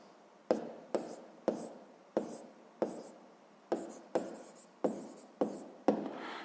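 A pen writes out a math answer on paper in a series of about eleven short, sharp scratchy strokes, each with a quick attack and brief fade, evenly paced and close up.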